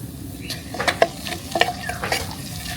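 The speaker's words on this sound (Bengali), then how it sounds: "আমরা দিয়ে দেব গোটা তেজপাতা আর গোটা শুকনো মরিচ, দিয়ে দিব লবঙ্গ আর দারচিনি" Whole bay leaves, dried chilies, cloves and cinnamon hitting hot oil for a Bangladeshi chicken kala bhuna, producing a close, steady sizzle with a series of crisp pops and spatters and faint stirring scrapes, no talking.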